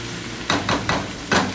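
Potatoes being stirred into hot oil with onion and garlic in a pot for vegetable soup, a few scraping stirs over a steady low sizzle, close up and with no talking.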